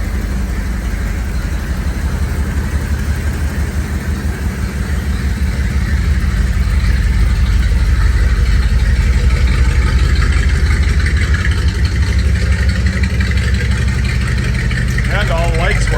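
A 1976 Chevrolet K5 Blazer Chalet engine idles steadily and smoothly at close range, a continuous low rumble that swells slightly partway through and holds through to the end.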